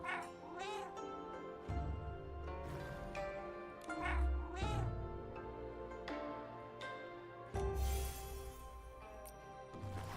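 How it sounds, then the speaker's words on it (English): Cats meow repeatedly in a video game, several overlapping mews rising and falling over a steady game music bed, moderately loud throughout. "All the poor cats that got stuck in the rain, I guess."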